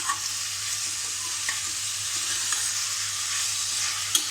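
Onions sautéing in a pan for chicken gravy give a steady, close sizzle with faint stirring clicks, loud and continuous with no talk.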